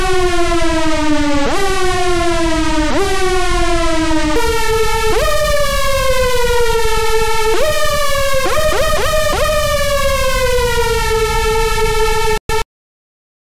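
A buzzy, detuned synth lead slides between pitches in long portamento swoops, thick and loud, ending in a few rapid stuttering glides before cutting off.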